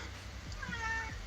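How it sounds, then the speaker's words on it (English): A cat meows once, a short rising and falling call that sounds fairly distant over a low background rumble. "in the distance you hear a cat meowing"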